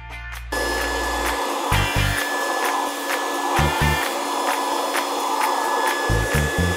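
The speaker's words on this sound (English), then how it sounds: "So let me vacuum that up" A vacuum cleaner runs steadily and loudly, its whine constant, with occasional rattling clicks as metal shavings from porting a small block Chevy Vortec cylinder head are sucked up.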